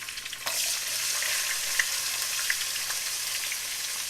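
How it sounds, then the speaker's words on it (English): Onions, a mix of red and white, hit a hot pot for a keto slow cooker pot roast, setting off a steady, close sizzle that jumps up at the moment they land and holds as a dense crackle with faint pops. "now we're gonna throw in some onions"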